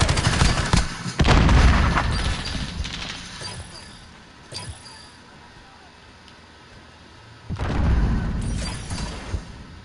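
In the video game Call of Duty: Modern Warfare, a grenade blast and bursts of gunfire erupt loudly at the start, fade into a quieter stretch, then return with another heavy burst near the end.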